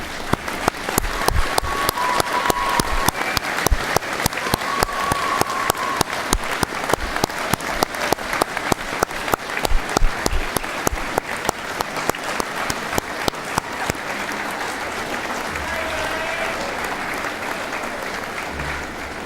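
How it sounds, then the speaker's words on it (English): Sustained applause from a large audience at a university graduation ceremony fills the space, steady and dense from start to finish, thinning a little toward the end. "join me in a round of applause"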